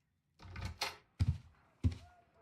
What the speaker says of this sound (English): No, I just heard the front door.